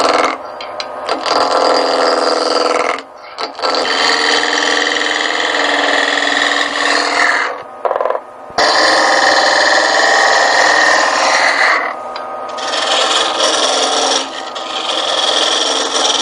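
Wood turned on a lathe while a knockout bar is roughed down, giving a loud, continuous rasping scrape that breaks off briefly several times as the tool lifts and then bites again.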